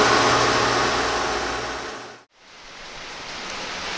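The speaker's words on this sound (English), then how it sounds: "Getting some rain today." Rain drums steadily on an uninsulated metal barn roof over a repair shop, a dense loud hiss of patter that cuts out abruptly partway through, then returns more softly.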